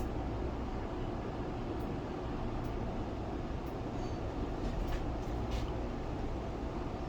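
Otis traction double-decker elevator at a Las Vegas hotel tower, a steady loud low rumble and vibration from the moving car, continuous throughout with faint higher clicks.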